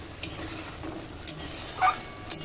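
Spoon stirring Bengali fish korma masala with sour curd in a pan, a steady soft sizzle broken by a few sharp scraping clicks of the utensil against the pan, close and with no talking.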